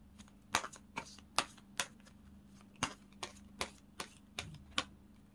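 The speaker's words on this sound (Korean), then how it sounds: "이제 카드 뽑아 보도록 할게요." Lenormand cards drawn and handled for a tarot reading, about a dozen crisp, close snaps and flicks in an irregular rhythm, with no talk over them.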